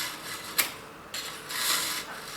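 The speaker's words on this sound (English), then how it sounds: "grinding off some steel" A Dailyart manual knife sharpener rasps steel off a knife blade in the coarse slot, heard as a sharp scrape followed by two longer abrasive strokes, close and fairly quiet, with no talking.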